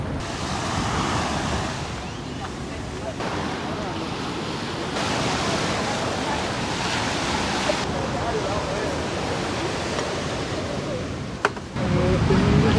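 Heavy surf rolls onto a rocky beach in Tayrona Park, a loud, continuous wash of breaking waves with gusts of wind buffeting the microphone.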